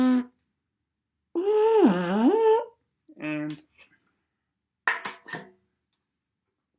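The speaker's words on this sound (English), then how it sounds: "First, you have to buzz your mouth to get a sound on a mouthpiece," Buzzing lips followed by buzzing into a euphonium mouthpiece, heard as a few short, separate buzzy tones with a wavering pitch and pauses between them, with a brief spoken word at the start.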